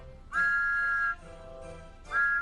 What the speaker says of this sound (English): Spencer blew his whistle, and Thomas whistled back.